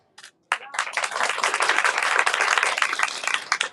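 Audience applause after a child's poem recital at a Republic Day celebration, a brief opening clap then dense lively clapping that swells and continues close and loud.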